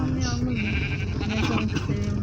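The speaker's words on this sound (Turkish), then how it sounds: "Ne haber koyuncuklar?" Sheep in Minecraft bleat in a wavering, nasal cry heard up close, with game sounds and a voice speaking alongside.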